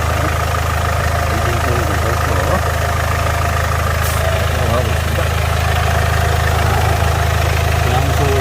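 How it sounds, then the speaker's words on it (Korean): A Land Rover Discovery Sport 2.0 diesel idles steadily and loudly close by, a constant low rumble and hum with no change in pitch throughout. "점검 다 마치고 시동을 걸었습니다"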